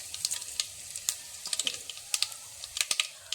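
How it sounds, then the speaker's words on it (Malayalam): Mustard seeds and dried red chillies hitting hot coconut oil in a pan, with a soft sizzle and sharp, irregular crackling pops scattered close by, and no voices. "വെളിച്ചെണ്ണ ചൂടാകുമ്പോൾ അതിലേക്ക് നമുക്ക് 1 സ്പൂൺ കടുക് ഇട്ട് കൊടുക്കാം."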